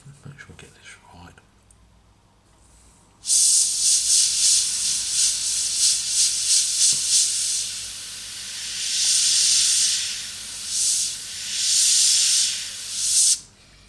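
An airbrush sprays hard-edged camouflage paint onto a Messerschmitt Me 109 scale model, a sharp close hiss starting abruptly after a quiet moment and pulsing in strength as passes are made, then cutting off.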